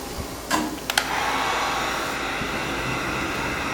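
A heat gun blows a steady, fairly loud airy rush while warming matte charcoal metallic vinyl wrap on a 2020 Subaru Crosstrek, with a few faint clicks and taps near the start and no talking.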